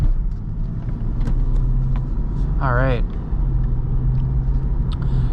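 A 2012 Lexus IS250 AWD with a 2.5-liter V6 drives with a steady low engine rumble and road noise heard from inside the cabin, while someone briefly speaks.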